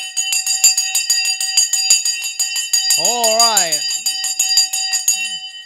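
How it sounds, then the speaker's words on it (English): A bell rings with rapid repeated metallic strikes, loud and continuous, while someone speaks briefly over it partway through. "The bell has gone."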